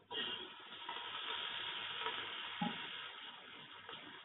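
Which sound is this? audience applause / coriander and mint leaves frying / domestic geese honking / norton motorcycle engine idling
coriander and mint leaves frying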